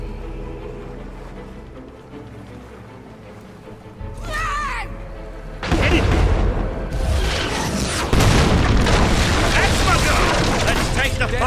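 A mortar blowing up in the video game Fable III, with a deep booming blast that rolls into sustained loud rumbling and crackling explosions, one brief higher whoosh just before the main blast.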